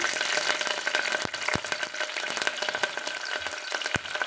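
Steady, crackling sizzle of onions, fenugreek seeds and curry leaves frying in hot oil, with a few sharp clicks of a spoon stirring the pan, close and continuous.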